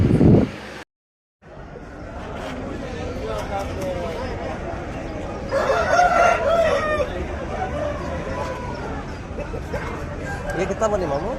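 Roosters and hens at a busy outdoor Sunday hen market in Piler, with a rooster crowing clearly over clucking and crowd babble. People bargain nearby.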